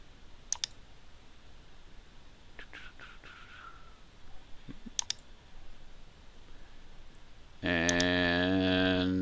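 A few sharp, isolated computer mouse clicks on a quiet desk while grading in Canvas, with a brief louder electronic tone near the end.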